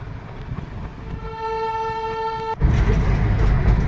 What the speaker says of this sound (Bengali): আবারও হুইসেল বাজিয়ে ধোঁয়া উঠিয়ে ঘুম স্টেশন থেকে দার্জিলিংয়ের দিকে রওনা দিল আমাদের টয় ট্রেন